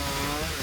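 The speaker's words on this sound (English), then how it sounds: "A chainsaw is used to cut pieces of wood" A chainsaw cutting pieces of wood to wedge under a stuck army vehicle's wheels, a loud close continuous engine buzz in one short burst.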